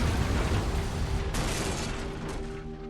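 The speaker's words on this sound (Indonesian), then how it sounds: "seketika mobil itu pun meledak dan membakar makhluk itu" A car explodes in the horror film The Hills Have Eyes (2006), bursting with a loud, roaring boom that rumbles on and slowly fades, with no talking.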